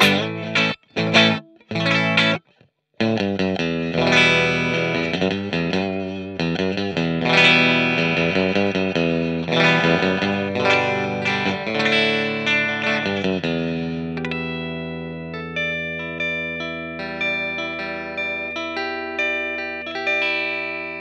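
Clean electric guitar playing chords and picked notes through an Overloud vintage amp simulation with a 2x12 cabinet sound, ringing and sustained, with a few short pauses at the start before notes ring out.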